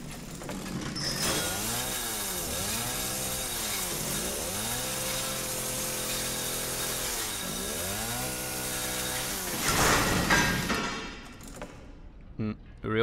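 A chainsaw in the horror video game Resident Evil 7 roars loudly and continuously, its engine revving up and down in repeated swells over several seconds before cutting out near the end.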